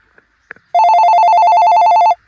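After a couple of faint clicks, a telephone rings in a Gujarati comedy sketch with a loud, close electronic warbling trill that lasts about a second and a half and then stops.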